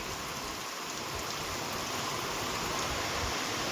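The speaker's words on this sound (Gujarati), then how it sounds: "અત્યારે સાંજ વરસાદ જો કે ચાલુ થઈ ગયો છે" Steady evening rain falls continuously on a farm with mango trees, a dense, even hiss of drops spattering on surfaces with no pauses or voices.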